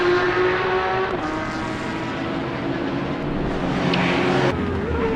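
Porsche 911 racing flat out around Bathurst in Assetto Corsa EVO, the engine droning steadily at high revs with a sharp pitch change near the end as it shifts through corners, loud and close throughout.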